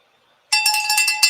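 A bright, metallic bell rings suddenly after a moment of silence, sustaining with a slight wavering shimmer before a second strike near the end.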